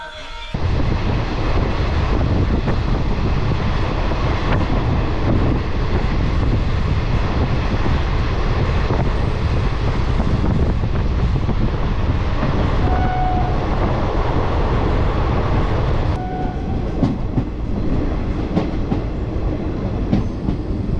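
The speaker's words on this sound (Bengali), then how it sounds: "ট্রেন ভালোই চলছে।" Nearly empty passenger train on the Sealdah to Azimganj line, heard from inside a carriage near Karnasubarna: a loud, steady rumble and rattling clatter of wheels on track for about twenty seconds, its tone shifting slightly toward the end.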